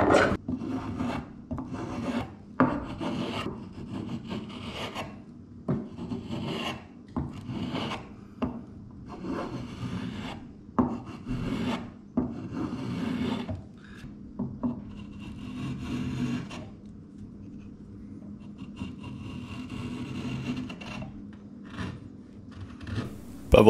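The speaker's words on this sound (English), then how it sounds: "Next, it's onto the spokeshave to start evening things out." A spokeshave shaving wood for a hand-made frame saw, with close, crisp rasping strokes repeated in a steady irregular rhythm, each pull a short scrape followed by a brief pause.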